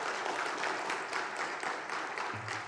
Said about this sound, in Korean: 우리 다시 한번 격려의 박수를 부탁드립니다.